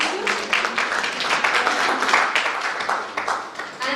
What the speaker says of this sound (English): A round of applause for Monsieur Nobla Osusu.